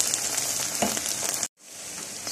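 Onions with red pepper flakes crackle and sizzle in a hot pan, a dense close hiss with a few stirring knocks, then a brief dropout before a quieter sizzle resumes.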